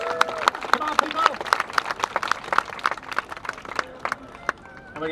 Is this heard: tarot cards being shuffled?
no